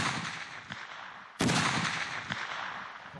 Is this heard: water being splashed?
no